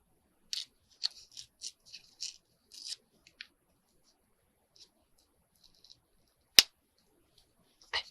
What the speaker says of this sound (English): did you hear that pop? That was the plastic popping.